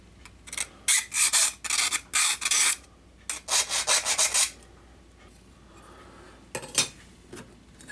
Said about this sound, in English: There's still a burr on here and we might get rid of that first